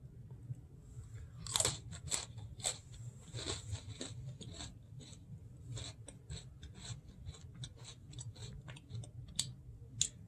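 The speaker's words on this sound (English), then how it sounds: "These taste kind of like ginger cookies." Crunchy ginger-style cookies bitten and chewed up close, a quiet run of sharp crunches and steady mastication with no talking.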